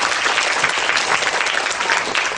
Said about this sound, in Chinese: 我们是掌声再欢迎嘉欣